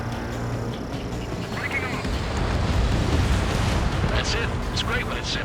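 A missile fired from a jet in the combat flight game Ace Combat 7 whooshes away and then detonates with a rumbling blast, loud and sustained over a dense bed of engine and battle noise, with radio voices talking.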